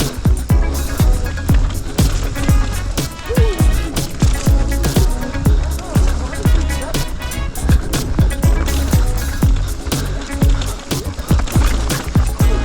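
Mountain bike riding down a rocky trail through a canyon section in Finale Ligure, Italy: a dense, continuous stream of loud clattering knocks, rattles and tire crunches, with rushing wind noise throughout and no talk.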